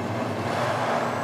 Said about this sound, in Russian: Подкачиваем масло до пятерочки и запускаем двигатель.